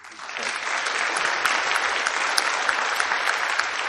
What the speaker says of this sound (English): give me one more round of applause for everybody